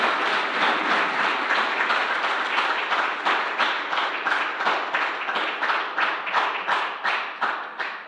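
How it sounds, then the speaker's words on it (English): An audience applauds at a university inaugural lecture. The clapping is dense at first and gradually slows into a steady, rhythmic pattern of synchronized claps that carries on for several seconds. "can we give her another hand of applause?"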